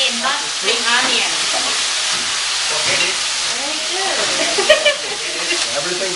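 Stir-fry sizzles and hisses in a wok over a strong flame at a Thai cooking class in Chiang Mai, a steady frying wash with occasional stirring clatter, while people talk over it.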